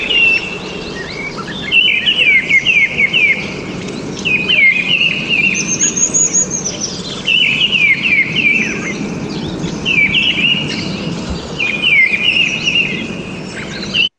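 A mistle thrush sings in repeated quick, fluttering phrases of clear, high notes, each phrase separated by a very brief pause, ringing out loud and close over a faint background hum.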